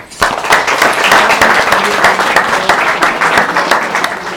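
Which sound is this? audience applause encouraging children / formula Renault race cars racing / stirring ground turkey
audience applause encouraging children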